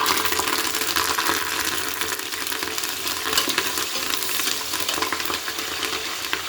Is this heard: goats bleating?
no